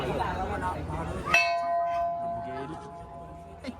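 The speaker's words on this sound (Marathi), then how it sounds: "वाजवलं साई घंटा" A single bright strike of a temple bell at a Ganpati temple in Mumbai rings out after some talk and hangs with a long, shimmering decay, voices murmuring faintly beneath it.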